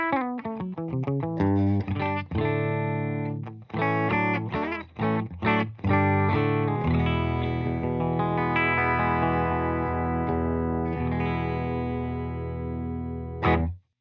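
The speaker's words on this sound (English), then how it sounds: "So I am running a Heritage H150 into a Silktone amp, and that sounds like this." A Heritage H150 electric guitar played through a Silktone amp with effects, loud and sustained: a run of quick plucked notes and stabs, then long ringing chords that hold and fade before a final short strum.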